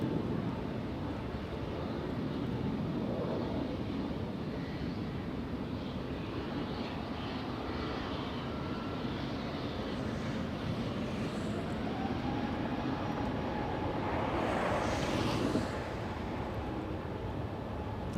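A Delta heavy jet taking off from runway 24 left at LAX, heard as a steady, loud broadband engine roar that holds evenly for about eighteen seconds, swelling slightly near the end.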